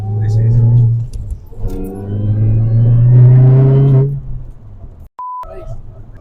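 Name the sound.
Mini Cooper S R53 engine revving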